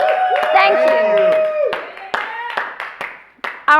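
A robust round of applause during a live-streamed fundraiser for a school, with sparse, scattered claps over a tonal backing and a voice speaking throughout.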